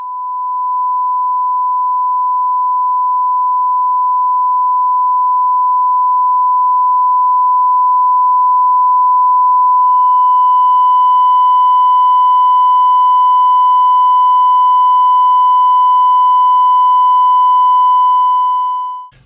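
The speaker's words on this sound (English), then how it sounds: "The 1K tone, beautiful" A loud, steady 1 kHz test tone run through distortion holds for nearly twenty seconds, turning harsh and buzzy partway through as distorted overtones appear, with no speech.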